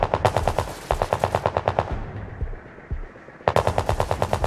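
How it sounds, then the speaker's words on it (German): Rapid automatic gunfire in the video game Sniper Ghost Warrior Contracts, loud bursts of evenly spaced shots at the start and end with a brief quieter gap between, no talk. "Hey, hier kam gerade ein Schuss her."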